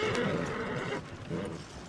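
A horse whinnies in the video game Red Dead Redemption 2 with a shrill, wavering call, followed by a brief snort or rustle, fairly close and clear.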